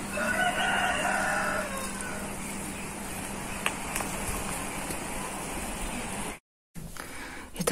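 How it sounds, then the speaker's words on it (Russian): A rooster crows loudly near the start, followed by a noisy background around a chicken shed with scattered clucks and rustling, a brief dropout, then more faint fowl sounds. "Это в старом сарае курочка."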